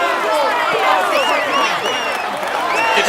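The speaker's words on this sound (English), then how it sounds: "Come on, let's applaud him once more." Crowd applauding and cheering for the polka dot jersey winner at the Tour de France, a steady dense wash of clapping with whistles and shouts running throughout, close and loud.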